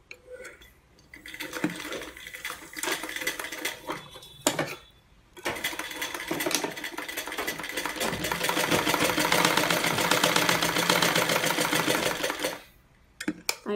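A sewing machine runs a steady, loud stitching burst while sewing a blouse front, starting after a few brief clicks and handling sounds, then stopping abruptly near the end.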